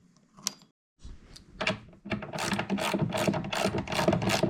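A bolt with lock washers is tightened on a workbench, a brief click, then a fast run of close ratcheting clicks that continues steadily to the end.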